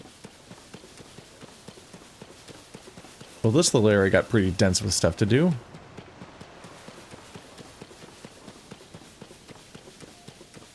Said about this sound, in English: And scare some horses.